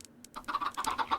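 Chickens in the Minecraft mod TerraFirmaCraft give a rapid burst of close, clear clucks, several short pulses in quick succession after a brief quiet start.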